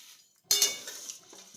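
A spoon scrapes once through a full kadai of flattened rice (chire), a sharp close rasp that trails into softer rustling as the flakes are turned.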